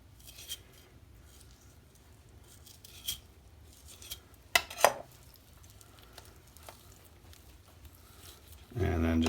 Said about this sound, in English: just take the tip of my knife and work around where the rib cage is